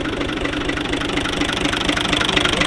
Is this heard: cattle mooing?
no